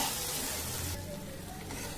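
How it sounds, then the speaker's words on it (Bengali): Spice paste with turmeric frying in oil in a pan over a low flame, giving a steady close hiss that drops a little in loudness partway through, with no voices. "এখন এটাকে ভালো করে ভেজে নেব।"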